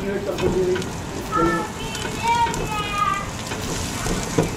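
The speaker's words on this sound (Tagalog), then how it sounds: "Gisa ko muna ang ating chicken" Chicken sautéing with garlic and ginger in a pan: a loud, close, continuous sizzle with stirring swells, while a voice talks over it.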